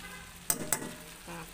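Fern greens and sardines stirred in a pan, with a steady low sizzle broken by a couple of sharp utensil scrapes and a final clack, nearby and fairly quiet.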